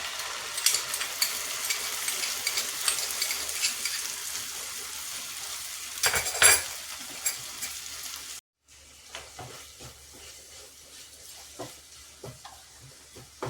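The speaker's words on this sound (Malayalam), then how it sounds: "അപ്പോൾ നമുക്ക് സോസ് ഒഴിച്ച് കൊടുക്കാം കേട്ടോ" Chili sauce and tomato sauce are poured into a hot pan and stirred, raising a steady hissing sizzle with scraping stirs. The sizzle cuts off briefly, then resumes more softly with scattered crackles.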